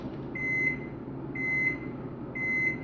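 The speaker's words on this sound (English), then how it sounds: "Shut the fuck up, microwave." Three evenly spaced electronic beeps from a microwave oven, each a steady high tone about a third of a second long, ring out over a low background hum.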